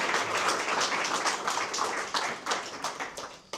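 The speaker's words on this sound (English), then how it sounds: "A big hand of applause for Raimonds." Audience at a DevOps and AI meetup in Latvia clapping for a speaker, a brief burst of applause from a modest crowd that thins out and fades toward the end, no talking over it.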